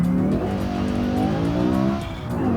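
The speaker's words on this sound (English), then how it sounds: "You can really hear the turbo as well." A modded ETK F-Series grand tourer in BeamNG revs hard and continuously, dense engine harmonics with turbo whine, loud and near, briefly dipping near the end as the throttle eases.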